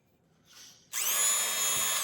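A polishing wheel on a bench motor spins up against silver bezels, a faint brief touch first, then a sudden loud, steady high whir that holds to the end.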